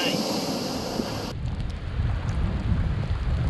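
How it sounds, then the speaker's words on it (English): Rain and stormy wind by the ocean in salty air, a steady broadband wash of rainfall and gusting noise with a loud hiss in the first second and a half, then a rougher, lower rumble of wind and rain. "It's salty air, it's raining, there's a big storm coming."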